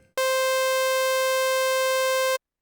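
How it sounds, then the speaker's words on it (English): A raw sawtooth synth tone from Serum's init preset, with no processing, holds one steady, bright, buzzy note for about two seconds, loud and alone, then cuts off abruptly. "we just init our preset here to that, to our saw wave again, which is the init preset in Serum"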